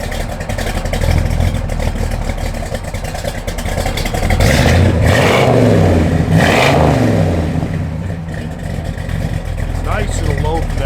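A 1969 Chevrolet Chevelle SS idles with a lumpy, loping cam beat, loud and close, rising into a couple of revs before settling back to its uneven burble.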